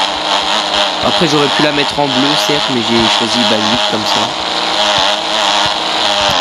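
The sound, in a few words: motorcycle engine revving in a mobile video game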